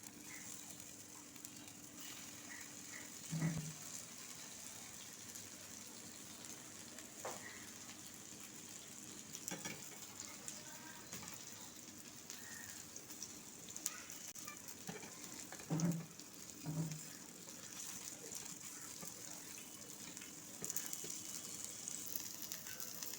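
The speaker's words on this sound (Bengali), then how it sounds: "হাই ফ্লেমে প্যাটি ভেজে তুলে নিচ্ছি" Chicken burger patties fry on a high flame, giving a soft, steady sizzle with a few brief clicks and pops along the way.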